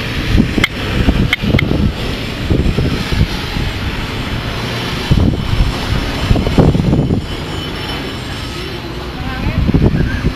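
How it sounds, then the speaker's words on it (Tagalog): A helicopter flies against strong wind, giving a loud, steady engine roar mixed with gusty wind buffeting, while people talk over it. "Malakas naman yung heli niya, lumalaban talaga sa hangin yun"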